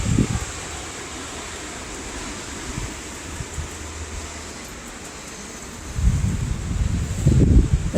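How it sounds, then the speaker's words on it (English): Strong wind from a powerful windstorm rushes and roars steadily, with louder gusts building toward the end, heard outdoors with no talking. "This is what happens when we get warm weather, is the wind goes crazy."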